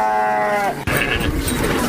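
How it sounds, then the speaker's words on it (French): A sheep bleats at a sheep market in Saint-Louis, one clear wavering bleat close by, then a sudden jolt into busy, noisy market clatter and murmur. "Nous sommes au point de vente de moutons de Medina Marmial, ici à Saint-Louis."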